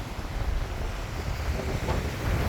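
Steady gusting bora wind in Lovran, Croatia, buffets the microphone, a broad low rumble with faint water and traffic noise underneath, no voices.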